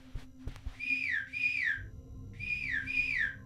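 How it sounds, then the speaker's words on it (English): A person whistles two-note falling calls during an online multiplayer game, two pairs of clear, fairly loud whistles after a couple of knocks. "Listen to my whistle."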